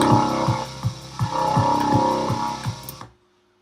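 A darkpsy hi-tech synth lead built in Serum plays a dense, bright, buzzing line over a steady pulsing kick and bass for about three seconds, then cuts off abruptly into silence.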